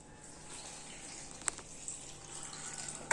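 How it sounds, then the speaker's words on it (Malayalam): Water pours into a pot of mangoes for a pulisheri curry, a soft continuous splashing and gushing stream with a few sharper clinks and splashes, quiet and close, with no talking. "നമുക്കിനി ഈ മാങ്ങ മുങ്ങി കിടക്കാൻ പാകത്തിന് വെള്ളം"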